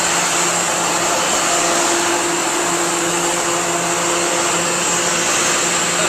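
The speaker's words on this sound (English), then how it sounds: "I think you can hear that hissing. Again, that's the hot gas bypass." Hot gas bypass on a 2011 Thermal Care NQA15 AccuChiller, a 15-ton NQ Series air-cooled chiller, gives off a loud, steady broadband hiss that holds constant, layered with machinery hum and no speech.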